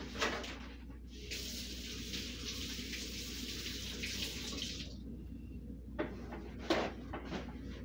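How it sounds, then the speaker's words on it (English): Water runs steadily from a kitchen tap during hand washing while cooking, a continuous splashing stream that pauses briefly near the end before a few short bursts of flow and handling sounds. "Let me wash my hands out."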